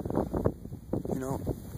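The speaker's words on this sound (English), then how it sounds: "it's windy up here." Gusty wind blows across a microphone high up on a snowy ski slope, a steady low rumble and buffeting throughout while a person talks over it.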